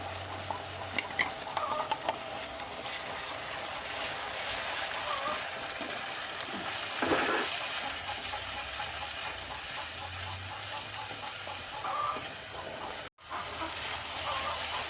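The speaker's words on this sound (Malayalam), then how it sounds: "നമ്മൾ തക്കാളി അരച്ചത് ഒഴിച്ചു കൊടുക്കാം" Ground tomato paste sizzles in a pan of hot oil for a sustained stretch, with steady crackling frying noise, occasional stirring and a brief dropout near the end.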